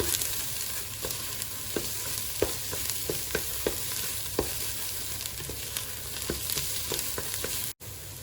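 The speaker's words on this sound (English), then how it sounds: "We've lowered the heat to medium. We're adding the green chilies." Green chilies sizzle in oil over medium heat for Ghormeh Sabzi, a steady crackling fry with regular light taps of a spoon against the pan, cutting out briefly near the end.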